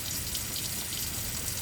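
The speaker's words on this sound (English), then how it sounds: "Water runs in a thin stream." A thin stream of tap water runs into a sink, a close, steady hiss and patter without breaks, heard alone and without talk.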